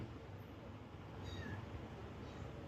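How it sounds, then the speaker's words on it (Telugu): A small kitten meows indoors, a couple of faint, brief high mews rising over a steady low background hum. "ఇంతకు ముందే ఒక చిన్న పిల్లి పసికందు మ్యావ్ మేవ్ అంటూ వచ్చింది ఇప్పుడు కూడా మేవ్ అంటూ ఉంది చూడండి"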